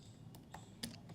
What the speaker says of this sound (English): typing some randomly